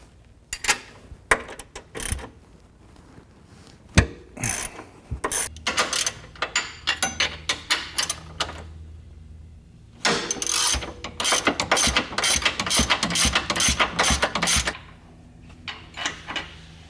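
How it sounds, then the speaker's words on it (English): A large ratchet with an 18mm socket works on tight suspension bushing clamp bolts, rapid clicking pawl bursts repeating in close, loud runs with brief pauses and metallic clanks between strokes. "You're going to need a larger ratchet because these things are on tight, and an 18mm socket, as well as an 18mm open end wrench."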